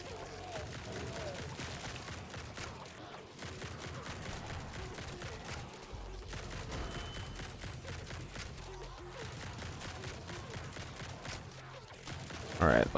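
Rapid, dense gunfire from many projectiles in a grimdark survivor-style video game, a continuous rattling stream with brief dips, steady and moderately loud throughout.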